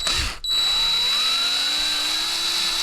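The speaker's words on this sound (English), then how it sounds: "then drill a small pilot hole in that cavity" An electric drill drilling a small pilot hole spins up with a short whir, cuts out briefly, then runs steadily at high speed with a rising whine, close by.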